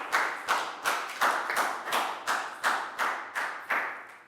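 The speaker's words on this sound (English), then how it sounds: "High five and a big round of applause for Lakgau, please, guys." Classroom of children clapping for a student during a Year 4 maths lesson, a steady series of about nine or ten loud, rhythmic claps in unison, close and dry with no talking.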